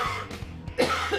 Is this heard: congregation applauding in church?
no